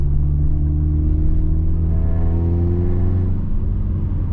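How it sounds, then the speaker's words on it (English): Cabin view of a straight-piped Subaru Legacy GT with the mufflers removed, its exhaust a loud, heavy droning rumble inside the car that rises in pitch as it accelerates, steady throughout with no voices. "Okay, here's what it sounds like inside the car."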